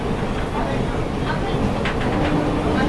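A Kharagpur to Digha local train runs with a steady, loud rumble and faint rhythmic rattling from inside the carriage, while people talk over the continuous noise.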